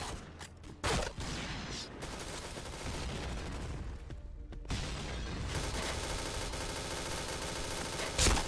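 Rapid gunfire from a shooter video game, with dense bursts of shots running almost continuously under a busy game soundtrack and a loud crack near the end.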